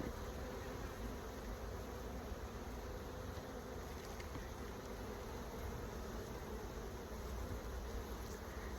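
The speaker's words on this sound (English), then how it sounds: "Very fast moving bees these are, what basically means they run very fast" Bees buzz around an opened hive during an inspection, making a steady, dense hum that fills the air close by without pause, fairly faint overall and with no voices.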